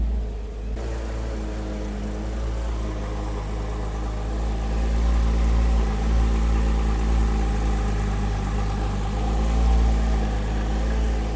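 A Porsche 997 GT3 RS engine idles steadily up close, a deep continuous rumble with slight swells in loudness and no talking over it.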